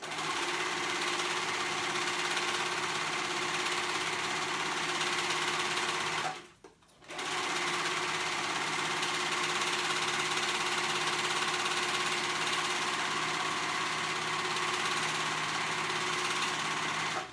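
A sewing machine stitches fabric for active shorts, running in a steady close whir with one brief pause partway through before it starts again.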